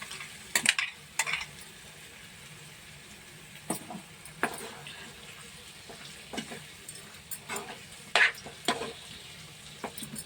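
Prawns frying in roasted masala in a pan, a soft continuous sizzle punctuated by irregular clinks and scrapes of a spoon stirring against the metal pan, close and fairly quiet.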